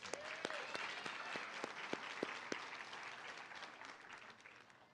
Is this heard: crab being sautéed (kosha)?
no